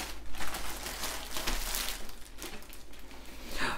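A branded plastic bag dust cover from a diamond art kit crinkles as it is opened, soft close rustling and crackling in uneven bursts throughout, with no voice.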